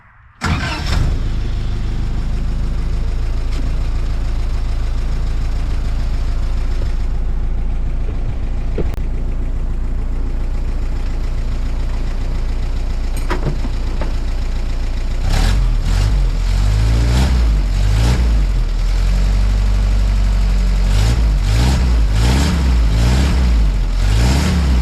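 A 1955 Willys CJ5 Jeep engine, freshly rebuilt with new gaskets and an upgraded exhaust, cranks and catches, settles into a steady rumbling idle, then revs repeatedly in loud bursts near the end.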